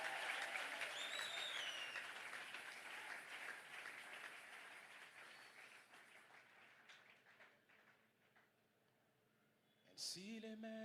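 A church congregation claps and cheers in praise, a dense wash of applause that fades gradually before a brief voice and clap return at the end.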